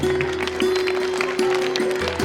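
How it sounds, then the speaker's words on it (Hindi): An audience at a school annual gathering and awards function applauds steadily and densely for a guest called to the stage, with a constant electrical hum running underneath. "जोरदार तालियां होनी चाहिए।"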